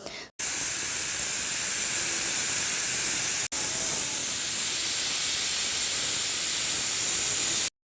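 A pressure cooker holding biryani vents steam after its whistles, producing a loud, steady hiss. It continues for nearly eight seconds with only a momentary break midway, and there is no speech.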